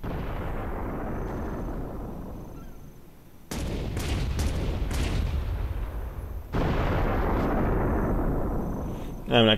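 Mortar fire booms through a Guild Wars 2 battle, with several sharp blasts in quick succession over a dense rumbling background, then a louder stretch of fighting noise.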